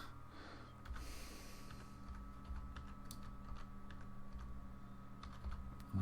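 Someone types a code on a computer keyboard while playing H1Z1, with quiet irregular key taps set against a low, steady background hum.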